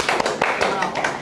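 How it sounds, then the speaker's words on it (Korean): A classroom of students claps briefly, a short burst of several uneven hand claps close by, mixed in with a teacher's voice. "박수."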